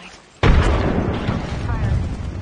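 A frag grenade explodes in the game Apex Legends with a sudden loud boom and a rumbling tail that fades slowly over two seconds, following a short quiet lead-in.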